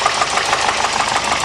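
Volvo turbo engine running steadily after a makeshift radiator hose repair, a continuous close mechanical drone with a faint knocking pulse, no talk.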